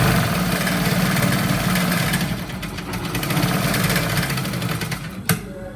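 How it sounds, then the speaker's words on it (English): A sewing machine stitches fabric for trousers, running steadily with a continuous mechanical whir and rapid stitching rhythm, close up, briefly pausing with a small clunk near the end. "Now place it under the sewing machine. I'll start the sewing."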